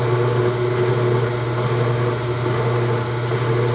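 A 3/8 inch end mill cuts metal on a machine, making a loud, steady, close mechanical whine with a constant hum and no pauses in the cutting.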